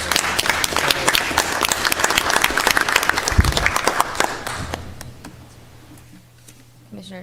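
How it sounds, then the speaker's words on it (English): Audience at an ethics commission meeting giving a round of applause, loud close clapping that thins out and fades toward the end as the room goes quiet. "A round of applause."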